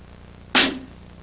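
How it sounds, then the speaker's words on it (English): One crisp single stroke on a snare drum, a sharp bright crack with a brief rattling tail, heard close and alone against a faint background hum. "Your regular stroke sounds like this."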